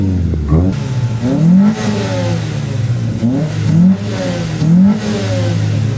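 A naturally aspirated Chevrolet Aveo engine revs up repeatedly, rising in pitch with each pull, several bursts of acceleration close by with no talking.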